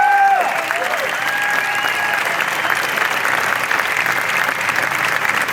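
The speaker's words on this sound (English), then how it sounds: "So give yourself a round of applause." Sustained crowd applause at an outdoor pro-life protest rally in Sydney, a dense steady clapping wash filling the whole stretch, with a brief whistle or cheer near the start.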